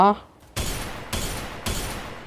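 Three loud broadband gunshots ring out in the Free Fire battle-royale video game, evenly spaced about half a second apart, each with a short decaying tail, following a brief burst of speech at the start.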